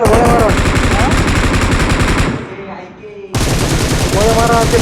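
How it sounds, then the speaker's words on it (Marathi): Rapid automatic gunfire from a video game rattles loudly and continuously, breaking off for about a second before resuming just as dense, with game music and effects underneath. "गोळ्या मारा त्याला, गोळ्या मारा"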